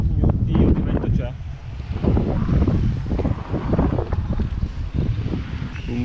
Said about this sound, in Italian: Oh mio Dio, che vento c'è.